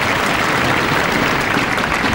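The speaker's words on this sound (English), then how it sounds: "a few thundersticks in the crowd" A bowling crowd at the 2006 World Masters cheers and claps with thundersticks, a loud, dense burst of noise that holds steady throughout.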